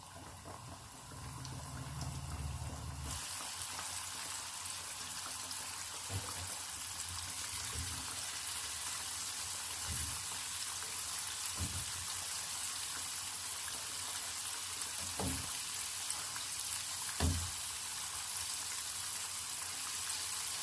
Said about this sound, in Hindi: गोल्डन ब्राउन होने तक इसको फ्राई कर लेंगे।